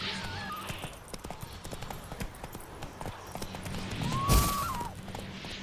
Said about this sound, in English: That's how you mount a horse, people.